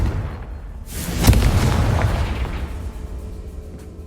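Confringo fire spell explosion in the Hogwarts Legacy video game, a single loud deep boom that swells and then rumbles away over a few seconds, heard alone.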